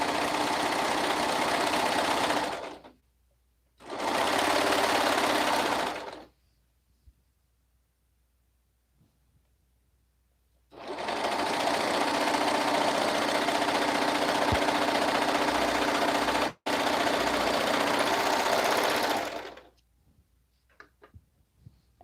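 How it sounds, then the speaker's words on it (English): A sewing machine stitches body pieces of a garment together in several loud, dense bursts of varying length, with short quiet pauses between runs and a faint tick or two near the end. The machine is close, with no voices. "now I'm sewing the whole body pieces together"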